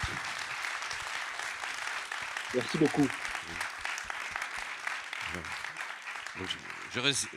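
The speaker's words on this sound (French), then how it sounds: "on vous applaudit très fort" An audience claps steadily at a literary short-story prize ceremony in Ottignies-Louvain-la-Neuve, a sustained patter of applause with a voice speaking thanks over it.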